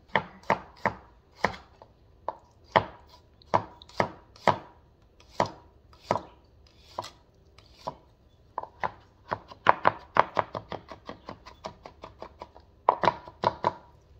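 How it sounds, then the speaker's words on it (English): A knife chops garlic and onion on a board while zucchini sticks are prepared, giving crisp, sharp knife strikes, first in a slow uneven rhythm and then in rapid bursts, loud and close with no talking. "Now let's chop up the garlic and the onion."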